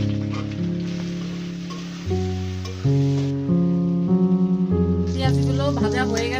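Onions frying in a pan, the start of a shrimp curry, give a steady broadband sizzle under louder background music with sustained melodic tones.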